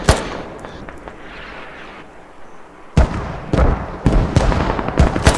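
Gunfire in the video game Squad, a muffled distant crackle at first, then sharp, loud shots in irregular bursts.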